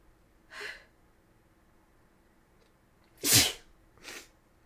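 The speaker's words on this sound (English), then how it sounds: "I think I sneezed again." Sneeze sound effect from the Alistair++ visual novel game: one brief sneeze, a quiet pause, then a loud sharp sneeze followed quickly by a softer one, heard alone without talk.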